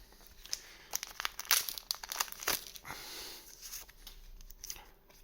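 A Z/X trading card booster pack is torn open by hand, its foil wrapper crinkling and crackling in close, irregular bursts with a sharper rip in the middle, and no talking.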